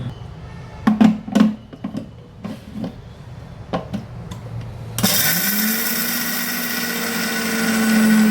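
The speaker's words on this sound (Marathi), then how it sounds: "झाकण लावून ते मिक्सरला फिरवून घेते." A mixer grinder jar powders peanuts with a pinch of salt, starting abruptly after a few scattered knocks and clicks of handling, then running as a loud, steady whirring grind that builds slightly toward the end.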